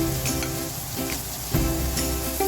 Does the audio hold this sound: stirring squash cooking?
yes